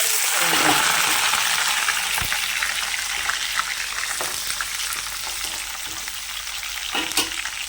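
Green chillies and curry leaves fry in hot oil with dried red chillies for an ivy gourd and dried coconut fry, giving a loud, constant sizzling crackle that eases slightly, broken by occasional stirring clicks.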